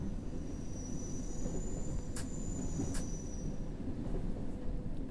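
A London Underground train in World of Subways 3 pulls away from the platform with a steady low rumble and a thin high whine, marked by two sharp clanks partway through.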